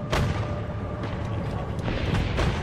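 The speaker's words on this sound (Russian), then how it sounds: "Какие-то бочки взрываются" Barrels exploding in the tank game War Thunder, a dense rumbling blast with a few sharp cracks on top, loud and continuous over a short stretch, with no talk.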